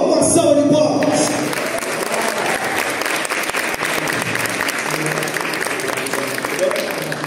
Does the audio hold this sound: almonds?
no